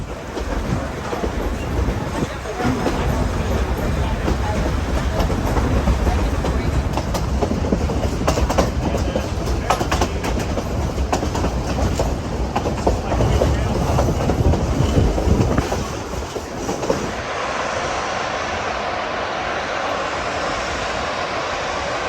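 A K-28 steam locomotive runs on the Rio Grande line near Durango, a loud, continuous rumble and roar of the train passing close by that fades to a steadier, lower background noise.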